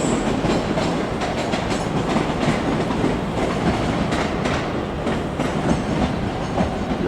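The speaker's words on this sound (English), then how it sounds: "there goes 385026 with the 1324 Scotrail service to Glasgow Central via" A Scotrail class 385 electric train, unit 385026, departs Edinburgh Waverley, its wheels clicking rhythmically over rail joints beneath a steady, fairly loud rolling rumble, with no voices.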